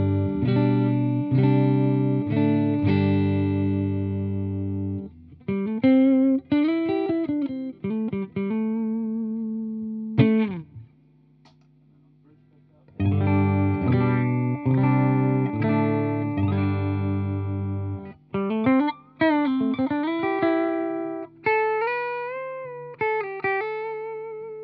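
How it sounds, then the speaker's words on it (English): Clean-tone electric guitar through a Crate solid-state amp's clean channel, close-miked with an SM57: bright picked chords and single-note phrases in bursts, with a few seconds of near silence midway. "I'm just using the clean channel because it's solid state"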